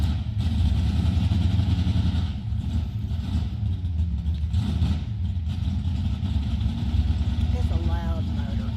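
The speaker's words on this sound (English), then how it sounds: "It's a loud motor. I'm telling you, it's loud." Loud racing motor running, a deep throaty engine drone holding steady for several seconds with slight surges, heavy and close, with people talking faintly underneath.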